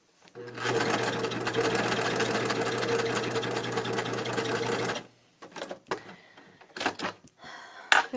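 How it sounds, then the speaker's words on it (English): A coverstitch sewing machine stitches fabric in one steady, loud, continuous run of about four seconds, then stops, followed by a few clicks and handling noises up close. "I'm just gonna cover stitch over this one little spot right here where it came out."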